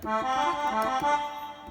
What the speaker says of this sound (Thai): เสียงคอเดียน